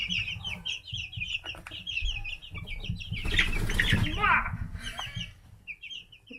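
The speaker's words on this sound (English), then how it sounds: "That one kicked that one off and they got in a fight." Chickens squabbling in a scuffle on a person's hand, with bursts of wing flapping and agitated clucks close by, while a person talks over the commotion.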